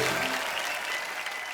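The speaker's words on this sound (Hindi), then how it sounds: "एक बार सभी के लिए जोरदार तालियां हो जाए।" Studio audience at a comedy talk show bursting into loud, dense applause, a continuous close wash of clapping from start to finish with no voices on top.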